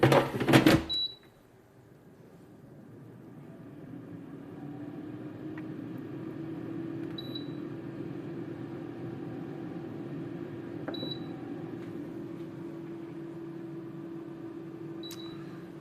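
An air fryer hums steadily while cooking bacon, with a low, even whir that builds after a few seconds and holds, with soft faint clicks and ticks scattered over it, after a brief louder handling noise at the start.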